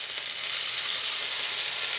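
Water poured into spices already fried in hot oil for a pangas fish curry gives a loud, steady, close broadband sizzle lasting about two seconds, with no talking.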